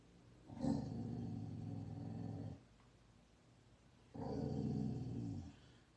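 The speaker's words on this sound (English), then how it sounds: "My dog, he's over there growling at my cat." A dog growls at a cat in two long, low, rumbling bursts of about two seconds each, separated by a brief quiet pause, close and fairly loud with no talking.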